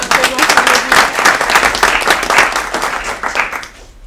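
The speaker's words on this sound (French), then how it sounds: "Merci de l'applaudir et de le remercier avec nous." Loud, close applause from a seated audience at a roundtable during a chair inauguration, with dense clapping and a few voices underneath that tapers off toward the end.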